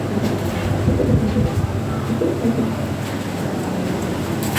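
A pair of fancy pigeons for sale, soft repeated cooing over a steady low background hum, fairly close and continuous.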